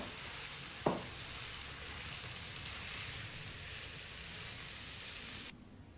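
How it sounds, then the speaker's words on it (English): Chopped carrot cooking in a pan, a steady broadband sizzle like light rain that holds evenly after a brief clatter as the pieces go in, then drops away at the end. "Let's add in the chopped carrot and let it cook for a bit until it softens."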